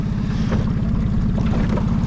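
A Yamaha-powered motorboat runs across Lake Peipsi at about 42 km/h, a loud, steady low engine drone mixed with rushing water and wind buffeting the microphone.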